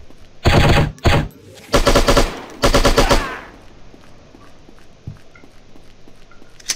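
Automatic gunfire is fired into the sky in the shooting game Striker, three loud close bursts of rapid shots over about three seconds, then quiet with faint scattered game sounds.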